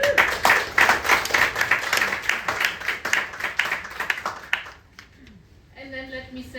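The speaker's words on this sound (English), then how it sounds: "So big round of applause" A summit audience claps in steady applause for a few seconds, close and lively, before it dies away and a voice begins speaking over quieter room tone.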